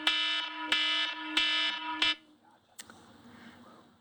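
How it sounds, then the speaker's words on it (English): A loud alarm blares in a legislative committee room in four rapid, evenly spaced pulses of a harsh horn-like tone, then stops abruptly, leaving a faint room background with a brief clunk. "I think we got the volume turned up on that alarm pretty well"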